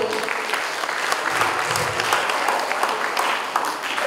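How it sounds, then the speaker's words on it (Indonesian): A hall full of graduation ceremony guests at a senior high school applauds steadily, a dense, even wash of clapping that holds for the whole stretch. "Tepuk tangan untuk Ispardo kita Bapak Ibu."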